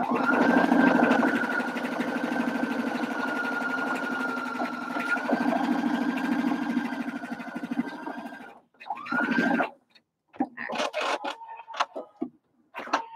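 A sewing machine hums steadily as it stitches for about eight seconds, then runs in a few short bursts separated by pauses.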